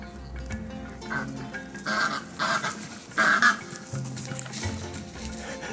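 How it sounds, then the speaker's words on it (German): A goose at a Tasmanian wildlife park honks in several loud, close bursts, harsh repeated calls separated by short gaps, with faint background bird and yard noise. "Die eine Gans, die geht hier immer ab und scheucht die ganzen anderen Tiere auf."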